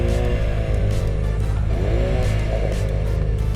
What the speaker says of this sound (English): let's park and we'll give it a couple revs